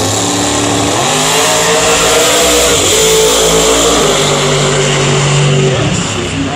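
Chevrolet Pro Mod drag car at the drag races, revving on a two-step: a loud, close engine that stutters and surges in stepped pitch changes, with crowd noise behind it.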